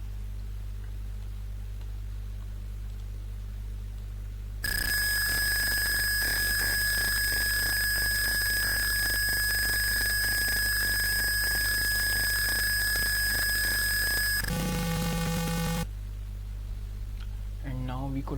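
A DIY laptop temperature monitor sounds a loud, continuous electronic alarm for about ten seconds. A short tone change follows before it cuts off over a steady low hum.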